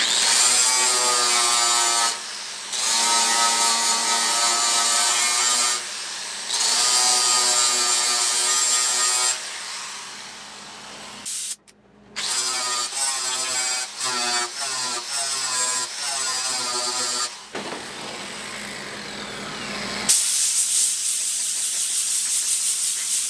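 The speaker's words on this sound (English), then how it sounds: "I'll grind them down real quick for you so you can see it." An angle grinder grinds down MIG welds on thin sheet metal in repeated close, loud bursts with a steady whine, separated by short pauses and one abrupt cut-off before grinding resumes.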